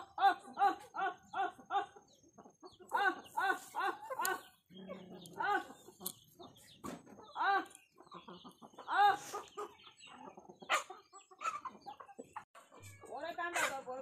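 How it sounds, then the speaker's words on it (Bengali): Chickens clucking as they gather for grain, a busy run of repeated close clucks and squawks in uneven bursts, with people talking intermittently among them. "দেখো কত মুরগি চলে আসছে।"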